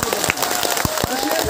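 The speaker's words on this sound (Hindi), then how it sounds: "एक बार आप अपने लिए ताली बजाएं" Brief applause from an audience at a program in Hailakandi, Assam, scattered claps rising over a busy hall ambience.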